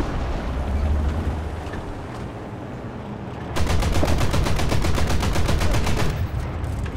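Video game gunfire, starting as a rough background rumble of battle, then a long, rapid automatic burst that rattles steadily for several seconds, loud and close, before easing back into the din.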